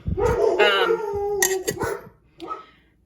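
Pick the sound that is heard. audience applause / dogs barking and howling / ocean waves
dogs barking and howling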